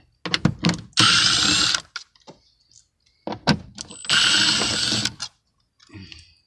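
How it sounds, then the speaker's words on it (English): A hand ratchet loosens the 8mm blower motor bolts on a Ford Econoline, working in two close bursts of rapid clicking with brief pauses and small mechanical knocks between them. "Let's disconnect our blower motor. 5/16 or 8mm."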